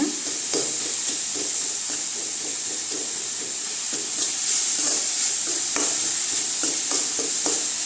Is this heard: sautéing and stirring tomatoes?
yes